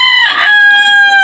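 A brooding hen, sitting on her eggs for four days, gives a loud, sustained, tonal vocalization close to the microphone, one drawn-out call lasting about a second.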